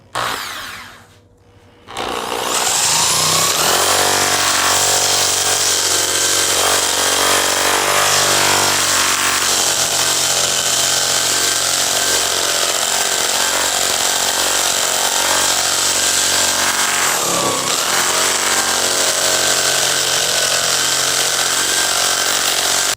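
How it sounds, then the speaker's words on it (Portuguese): A power drill fitted with a sanding attachment runs steadily against a surface, continuous loud grinding whir that starts after a brief pause and holds for about twenty seconds, close and alone. "agora essa outra parte que não foi lixada ainda, eu vou usar a furadeira"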